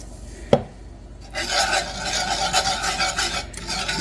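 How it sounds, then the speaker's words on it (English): A whisk scrapes and stirs briskly through milk being added to melted butter in a pan over low heat, a sharp clank near the start, then a steady rasping swirl that continues alone. "You really just want to whisk those lumps out as we add the liquids"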